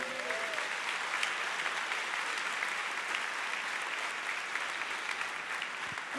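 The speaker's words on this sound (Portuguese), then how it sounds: "Você pode aplaudir o Senhor?" A church congregation applauding in steady, even clapping that fills the room at moderate loudness, continuous without a break, from a Brazilian sermon setting.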